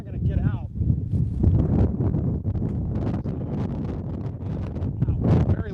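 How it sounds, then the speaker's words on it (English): Strong gusty wind roars and buffets a microphone outdoors while storms are being tracked in central Illinois. The rumble is continuous and heavy, with a voice speaking through it. "I know it might be kind of windy."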